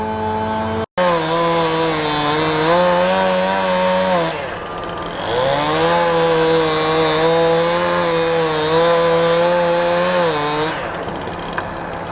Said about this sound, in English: Somebody's firing up a chainsaw.